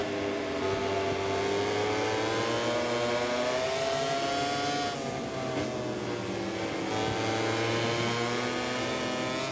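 Racing motorcycle in the MotoGP 24 video game at Mugello, its engine note dropping and then wavering as it brakes hard for turn 1, a continuous loud droning whine with no talking.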